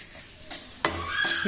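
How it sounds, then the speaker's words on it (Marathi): Raisins frying in hot ghee while making methi dry-fruit laddu: a soft sizzle with a sharper spatter and stir scrape near the end, close and fairly quiet, no talk. "किसमिस सुद्धा असे तळून घ्यायचे छान."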